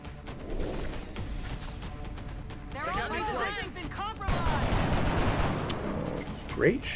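Gunfire in the video game XCOM: Enemy Within, bursts of shots and crackling impacts over steady game ambience, with a louder blast near the end and someone talking over parts of it.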